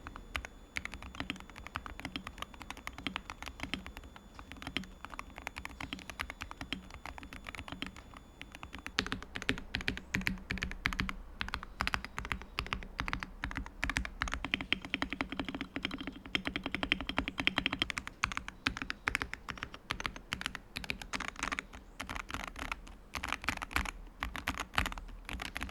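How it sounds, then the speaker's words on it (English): Continuous typing on a Wooting 80HE keyboard, rapid overlapping keystrokes clattering steadily throughout at close range with no talking. "here's a quick sound test to give you a better idea of how this keyboard sounds."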